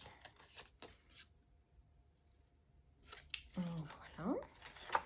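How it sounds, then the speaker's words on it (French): Scissors snip through paper while a scrapbook page is trimmed, giving a few quick crisp cuts and rustles close by after a quiet stretch, with soft speech around them. "On vient couper tout ça."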